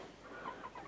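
A two-month-old chick of a French breed gives soft, quiet clucking chirps, a couple of faint short calls heard close in a calm farmyard setting.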